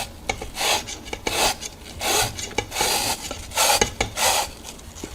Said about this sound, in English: I'm gonna scrub it a little bit harder and let's see what happens.